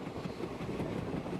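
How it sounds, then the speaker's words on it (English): A passenger train rolls through northeast India, its wheels giving a steady, moderately loud rumble with a faint clickety-clack rhythm and no voices over it. "So take a look at this train journey."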